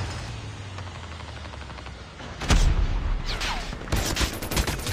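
Automatic gunfire from a sentry gun in the mobile shooter game Call of Duty Mobile: a fusillade of rapid shots, quieter at first and then louder and closer, mixed with other game gunfire and no talking.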